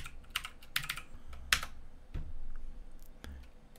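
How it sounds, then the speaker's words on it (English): A search being typed on a computer keyboard, a few scattered bursts of close key clicks and taps with pauses between them over a quiet room background. "you type in Wyckoff"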